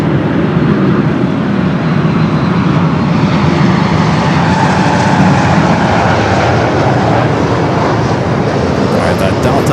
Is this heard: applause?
no